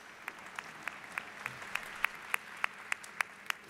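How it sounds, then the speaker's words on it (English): Faint, evenly spaced claps at a university commencement ceremony for a global BBA program, sounding in a steady rhythm of roughly three per second over a soft background hiss, with no voices. "Please give them a huge round of applause."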